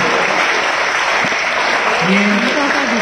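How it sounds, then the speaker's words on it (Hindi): A crowd at a school farewell ceremony for a retiring PTI teacher claps steadily and loudly for the full stretch, with no break and only faint voices underneath. "करतल ध्वनि रुकनी नहीं चाहिए"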